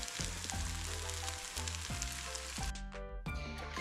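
Zucchini cake layers fry in oil in a pan, a close, continuous sizzle and crackle with faint clinks of the pan and utensil recurring at intervals, and no talking.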